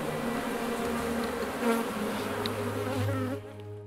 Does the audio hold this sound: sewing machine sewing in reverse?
no